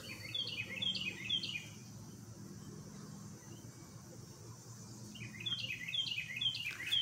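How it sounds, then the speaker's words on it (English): Birds chirp in a backyard in quick bursts of bright, rapid tweets, clustered at the start and again near the end over a faint low background hum, fairly distant and soft. "Hear the birds?"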